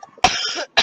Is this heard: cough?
yes